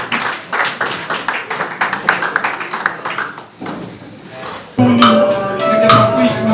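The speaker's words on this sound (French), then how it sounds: "on applaudit encore très fort pour maman" A church congregation applauds loudly for a mother during a retreat, with uneven, rhythmic clapping for several seconds. After a brief lull, a louder burst of clapping returns mixed with music or singing.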